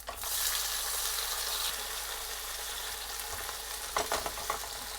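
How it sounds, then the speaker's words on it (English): Tomatoes and green onion sizzle steadily as they stir fry in hot oil for Chinese tomato egg, a dense continuous crackle with a few louder stirring scrapes near the end. "they need about a minute to stir fry so that their liquids can start to release"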